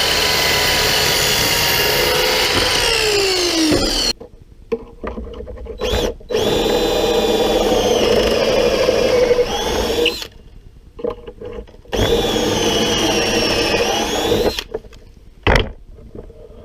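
A power drill bores pocket holes into 2x4 lumber for a box frame, with loud whining bursts of several seconds each, pitch sagging under load, separated by short pauses.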